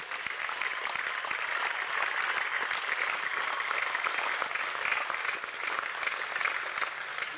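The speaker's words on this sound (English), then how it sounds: "let's give them applause" Sustained applause from a graduation ceremony audience for engineering graduates, steady dense clapping of many hands at an even level from start to finish.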